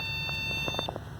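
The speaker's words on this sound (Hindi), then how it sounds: "सीरीज बीप दे रहा है मदरबोर्ड" A computer motherboard with a RAM fault sounds a continuous high electronic beep that holds steady for most of the moment, with a few faint clicks and knocks beneath it.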